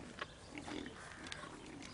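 Pigs on a farm ahead of being taken to market, giving scattered short grunts and snorts over a steady background hiss, fairly faint and close by.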